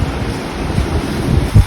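Strong wind gusting outdoors ahead of rain under dark storm clouds, heard as a steady, close buffeting rumble on the microphone that swells into a heavier gust near the end, with no talking.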